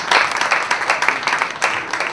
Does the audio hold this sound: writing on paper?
no